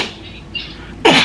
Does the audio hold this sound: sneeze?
yes